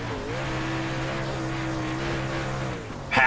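Dirt race car engine in iRacing, powering off a corner at Lincoln dirt track: a steady, loud, buzzing engine note holding constant for about three seconds, then a brief harsh burst of noise at the end.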